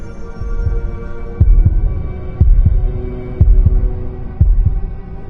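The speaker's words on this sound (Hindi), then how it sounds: "रोहित का दिल जोर से धड़कने लगा।" A loud heartbeat sound effect pounds in a steady lub-dub rhythm, about one beat per second, with deep thumps over a low droning hum, no voices.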